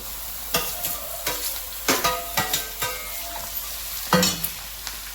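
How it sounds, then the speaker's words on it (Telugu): Bottle gourd pieces fry in a pan with onions and green chillies, giving a close, loud sizzle broken by repeated scraping stirs at an uneven rhythm, about eight strokes, without talk. "ఇప్పుడు సొరకాయ ముక్కలు వేసేద్దాం."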